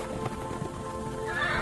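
Chariot horses neigh briefly against a dense, steady background with hoof sounds, ending in a rising whinny.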